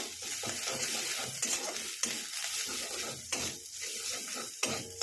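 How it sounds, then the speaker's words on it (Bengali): Spices sautéing with salt and sugar in a pan over low heat, a steady close sizzle with stirring scrapes and occasional clicks of a spoon against the pan, with no voices. "চিনি দিয়ে দেবো। একটু কষিয়ে নেব।"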